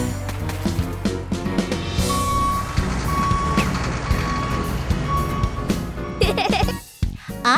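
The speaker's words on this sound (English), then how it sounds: "I guess Pinkfong wants to build a castle with a cool-looking construction vehicle." A toy construction vehicle rolls along in a sandbox, its reversing beeper sounding a steady, evenly spaced series of loud electronic beeps over a busy background of music-like tones and motor whir.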